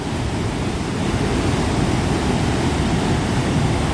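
Tad Ton waterfall in Nong Sung district, Mukdahan, Thailand, pours with a steady, dense roar of rushing water. The sound is loud and continuous, with no voices.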